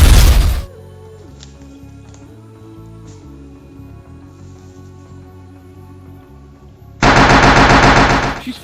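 Rapid bursts of movie-style gunfire as an android fires at people: one loud automatic burst at the start and another at the end, with a quieter humming gap between them.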